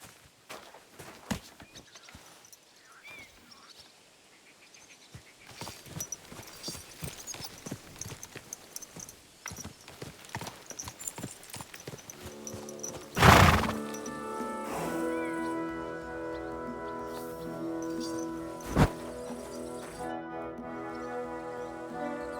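Irregular horse hoof clops and footsteps shuffle through a scene in Kingdom Come: Deliverance II, followed by a loud crash and a sustained ringing tone with another sharp hit later.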